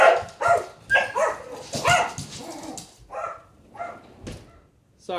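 Dogs bark in a string of close, loud yaps and woofs, roughly one burst every second, tapering into softer barks and a whimpering yip near the end.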